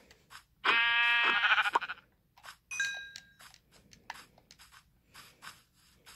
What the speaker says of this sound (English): Oh, more sheep to kill.